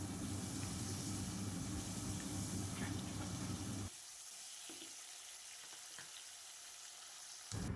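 Chopped green chili and tomato fry in a pan for a fish curry. A steady loud sizzle runs for about four seconds, then drops to a quieter hiss, and the sizzle swells again at the end.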